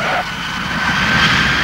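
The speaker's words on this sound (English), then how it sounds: "On touchdown, clouds of smoke shoot from the tyres of this jumbo jet." A jumbo jet touches down on a runway, its engines roaring as a steady, loud broadband rush that swells slightly toward the end, with no talk over it.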